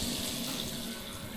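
Water gushes steadily from an opened valve in a house under construction, a close, continuous hissing flow like a running tap, with no talking.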